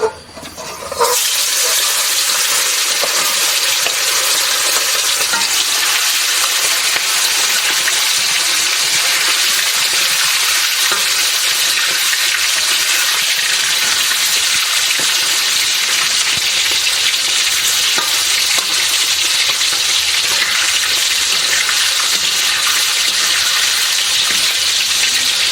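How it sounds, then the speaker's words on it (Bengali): Pieces of chicken hit hot oil in a wok and fry with a loud, steady, broadband sizzle that starts abruptly and holds at an even level for the whole stretch, close up and without talk. "এখন আমি মাংসটাকে অর্ধেক অর্ধেক করে ভাজবো"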